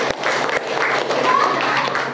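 Students applauding in a classroom, a dense burst of many hands clapping together at close range that carries on steadily for a couple of seconds.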